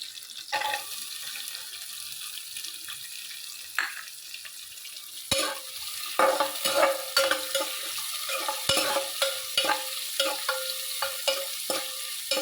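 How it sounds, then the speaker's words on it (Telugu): Sliced onions fry in a pan, browning, with a continuous close sizzle as a spoon stirs and scrapes in a quickening rhythm through the second half. "లైట్గా బ్రౌన్ కలర్ వచ్చేదాకా వేయించాలి"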